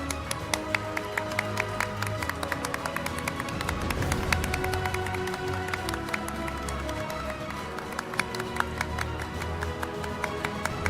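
An audience at the 2024 Korean Court Day ceremony claps steadily as the Chief Justice enters. The applause is dense and sustained for the whole stretch, with sharp individual claps standing out over a broad crowd wash.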